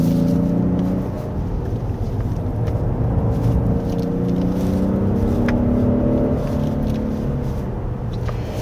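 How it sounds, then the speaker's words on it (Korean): A 2024 Genesis G90 with a 48-volt electric supercharger and AWD is driven on a winding mountain road. Its engine and cabin drone stay continuous, with a humming tone that rises and shifts as the car pulls, and no talking. "근데 그거 외에 좀 오옹하는 그런 소리가 그 3000rpm 부근에서부터 좀 납니다"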